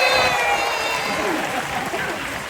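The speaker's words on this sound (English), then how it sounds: "Let's give a big round of applause for Selena Arvizo" A crowd at Disney's Hollywood Studios claps and cheers steadily at a live stage show for the park's 35th celebration, a dense wash of applause that slowly fades over a couple of seconds.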